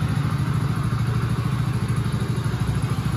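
Hero Splendor 100cc motorcycle idling nearby, a steady low, rapid single-cylinder putter with light mechanical clatter running throughout, no talk over it.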